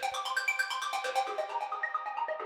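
A steady, rapid synth arpeggio from an Xpand!2 velocity-sensitive preset plays alone, its softer notes passing through a lower, more closed filter so the tone dulls slightly toward the end.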